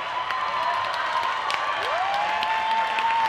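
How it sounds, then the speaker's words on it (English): A stadium crowd at a women's 5k track race cheers and applauds steadily, with a tonal sound rising and holding beneath the noise. "And the crowd gets into it."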